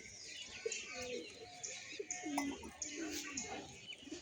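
Pigeons, a red one among them, give soft, low, repeated coos close by. The coos come at irregular intervals over a faint murmur of voices in the background.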